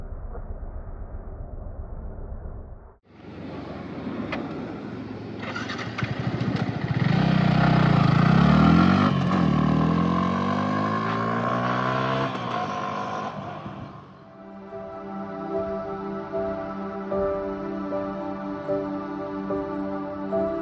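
A motorcycle rides through light traffic. The engine revs up and settles, and other vehicles' engines drone and pass nearby. The sound is steady and fairly loud, with no talking.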